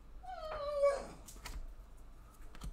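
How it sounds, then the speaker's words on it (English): A dog whimpers and breaks into a short rising howl, high and wavering, followed by a few faint yips and soft noises; fairly quiet overall. "Dog has a breakdown."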